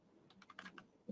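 Fingers typing a short URL on a computer keyboard, a quick run of about six light, close key clicks, very faint.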